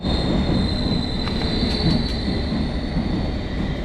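A London Underground train pulls into a West Ham station platform with a loud continuous rumble and high metallic wheel squeal, close by and sustained throughout, with no talking.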